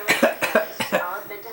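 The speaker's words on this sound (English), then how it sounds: "Can you cough?" Someone gives a series of deliberate fake coughs, about six short bursts in quick irregular succession, close and fairly loud with no other talk.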